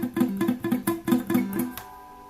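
Low-action strings on a Vangoa acoustic-electric guitar, strummed in a quick rhythmic run of about eight muted, buzzy strokes that choke off fast, then a final ringing strum fading out alone.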